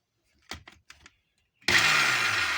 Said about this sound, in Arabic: انا فاتحه الخلاط اهو